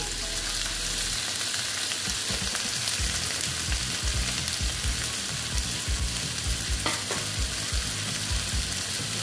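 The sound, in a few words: eggplant frying in a pan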